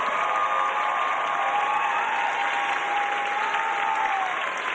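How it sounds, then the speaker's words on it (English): A large commencement crowd applauds graduating student marshals, a loud continuous roar of clapping with faint crowd noise and a tonal line running through it, sustained throughout. "Now you may applaud"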